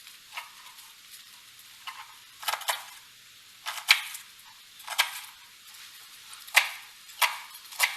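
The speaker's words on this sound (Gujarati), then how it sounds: "અહીંયા લસણ જો એકદમ ઝીણું સમારું છું, બને એટલું ઝીણું સમારવાનું." Garlic is finely chopped with a knife on a board: sharp, irregular taps and clicks, some quick pairs, spaced across a quiet background.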